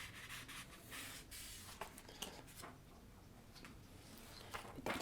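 Paper rubbed and handled close to a microphone for ASMR, soft scratchy swishes and crinkles in an uneven rhythm, quiet and intimate with no speaking.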